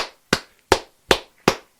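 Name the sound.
clapping for a birthday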